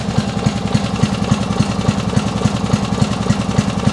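A small engine on a raised riding machine idles with a fast, even chugging pulse, its speed wavering slightly as the governor hunts, close and steady with no voices.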